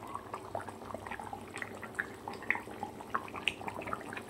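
Chicken curry bubbles in a pot at close range, soft popping and gurgling blips rising in an irregular, fairly quiet stream with no talk.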